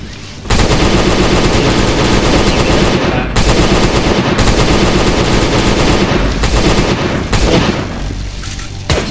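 Loud, sustained automatic gunfire in a video game, rapid bursts hammering almost continuously with a few short breaks, close and dominant throughout.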